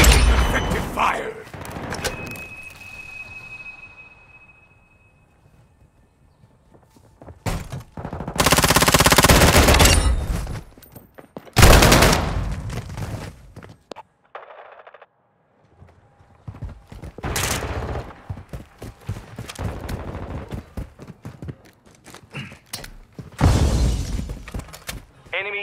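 Video game firefight with bursts of gunfire and loud grenade explosions in separate bursts between quieter gaps, while voiced game callouts shout over the action.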